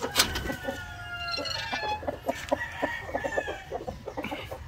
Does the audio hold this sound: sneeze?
no